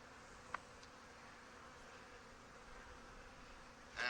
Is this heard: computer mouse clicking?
no